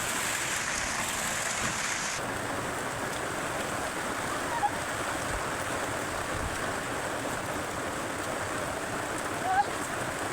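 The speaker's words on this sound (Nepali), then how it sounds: "अनि पानी चाहिँ दड्केर आएको छ।" Heavy rain pouring down steadily as a dense, continuous hiss that stays even throughout, with a couple of faint knocks.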